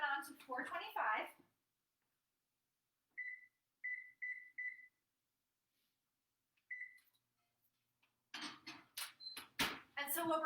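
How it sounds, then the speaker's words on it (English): A cast iron pan is set into an oven being preheated to 425 degrees, followed by a handful of short, faint electronic beeps from the oven controls, spaced apart in quiet between stretches of talk. "we're going to pop this right in the oven, and we're going to turn our oven on to 425"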